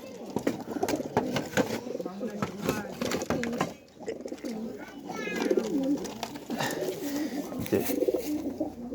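Several pigeons coo repeatedly in a loft of birds caught in 2024, including white and green ones, their low throaty calls overlapping continuously under someone talking throughout.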